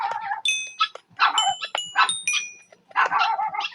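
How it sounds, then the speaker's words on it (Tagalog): Neighbours' dogs bark and yip in quick overlapping bursts, fairly close and loud, several animals answering one another over a quiet background. "Ingay ng aso."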